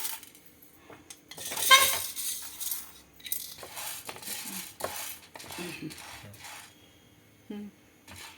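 Lentils are dry roasted for sambar powder, with a spoon clinking and scraping against the pan in irregular metallic taps and stirs, fairly close and moderate in level.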